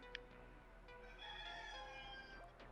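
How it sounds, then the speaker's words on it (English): A rooster-crow phone ringtone plays faintly: a drawn-out, tinny cock-a-doodle-doo with a clucking tail over low background hum. "Whose rooster is that?"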